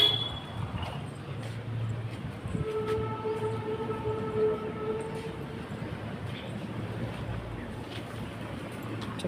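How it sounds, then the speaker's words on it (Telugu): A train rumbles past close to Lallaguda railway station, a low steady roar of rolling cars with a sustained horn-like tone partway through and faint background noise, with no talk. "ఇక్కడ స్టేషన్ కూడా దగ్గర, అందుకనే ట్రైన్స్ అయ్యి మోతకి నేను మధ్యలో ఆపేసాను."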